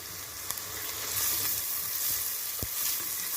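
Carrots frying and being stirred in a pan, a steady hiss of sizzling oil with a few scraping knocks from the stirring, close and alone.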